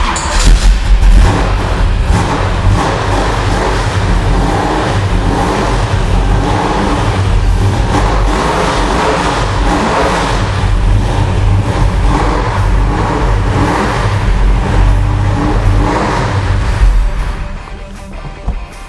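A 1971 Baldwin Motion Camaro, a 10-second street car, revs hard and loud for nearly the whole stretch with a deep, sustained roar that drops off near the end.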